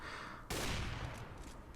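A burst of rapid gunfire in CS:GO breaks in abruptly after a half second of quieter game noise and continues loud and dense to the end, with no talking over it.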